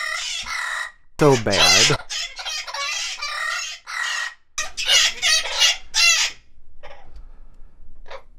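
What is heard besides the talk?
chickens and rooster clucking and crowing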